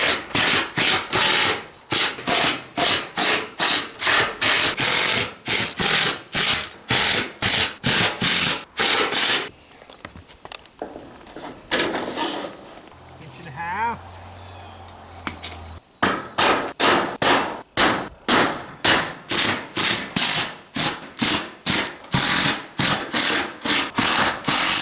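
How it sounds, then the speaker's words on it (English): A screw gun drives screws through a metal roofing panel in loud, rapid bursts of rattling ratchet-like clatter, pausing midway for quieter handling and scraping before the fast fastening resumes, close and harsh. "as you screw these, you want to keep moving across your panel"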